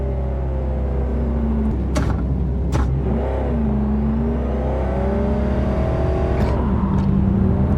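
Car driving in Cyberpunk 2077, a constant loud low engine rumble with rising and falling revs, a few sharp clicks cutting through, steady throughout.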